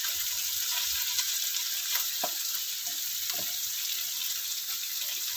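Tomatoes sizzle and sauté steadily in a hot pan while mung bean stew gets started, a continuous close frying hiss with a few soft stirring clinks and no talk.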